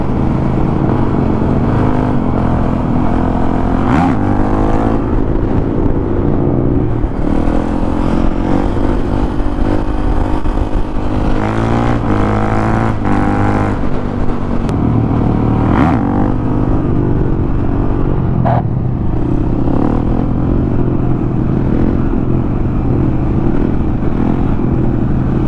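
A 2000 Harley-Davidson Road Glide bagger motorcycle, fitted with new parts, roars loud and close for the whole stretch, its engine note rising and falling through repeated revs as the rider sets up a wheelie.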